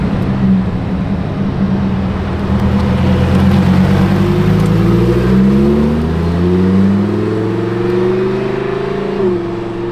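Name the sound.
Lamborghini Huracan Performante car engine driving past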